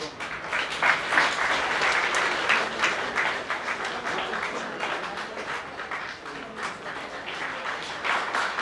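Sustained applause from a crowd at a spiritual ceremony, dense and steady clapping of moderate loudness that continues throughout with slight swells.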